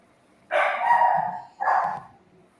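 A dog inside a house gives two loud, close barks, a long one followed by a shorter one, against a quiet background.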